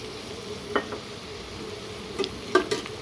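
Tomatoes being mixed in a pan for lemon rice, a soft sizzle underneath with a few light clinks and scrapes of a spoon against the pan, close by.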